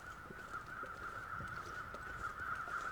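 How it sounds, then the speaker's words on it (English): Crows caw repeatedly at a distance in The Long Dark survival video game, scattered calls over a steady high ambient wind tone. "There are a lot of crows kicking off."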